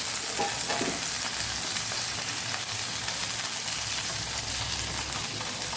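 Tomatoes sautéing in two spoons of oil in a pan over medium gas, a steady close sizzle with brief bubbling bursts as they are flipped, no talk.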